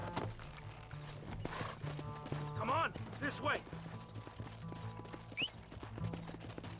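Horses gallop in the Western video game Red Dead Redemption, with rapid, busy hoofbeats and a few loud whinnies over music while someone shouts a command.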